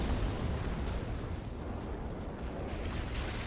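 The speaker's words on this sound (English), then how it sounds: "Pretty big explosions." A heavy, continuous roar of rumbling rocket blasts in the video game Men of War, like large explosions blending together in a dense, booming wash.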